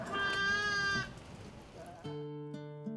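Sheep at a shearing demonstration on a ranch give a couple of bleats, one higher and wavering, then a lower steady one, close and fairly quiet.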